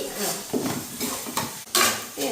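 A spoon stirs garam masala and spice powder in a cooking pot for a one-pot chicken stew. Several close, distinct metallic scrapes and clinks sound in uneven strokes over a faint sizzle, with no talking.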